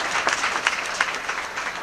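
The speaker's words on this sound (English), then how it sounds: "How about a nice round of applause for our brave Captain Duck?" Audience applause after a battle stunt show at the Disney-MGM studios backlot: a dense, steady roar of many hands clapping at once, close and continuous with small surges, no voices over it.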